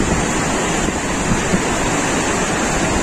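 The Beas river rushes past Manikaran in Himachal, a steady, loud, roaring torrent of fast cold water. The churning wash stays broadband and continuous throughout, with no voices over it.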